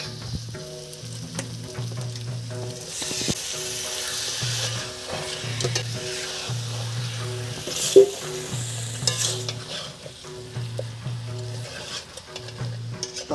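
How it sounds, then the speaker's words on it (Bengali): Chicken pieces fry in a wok of cooked-down spice paste, a continuous sizzle broken by repeated scraping strokes of a spatula stirring the meat, close and steady throughout. "এখন আমি কড়াইয়ে দিয়ে দিব মাংসগুলো।"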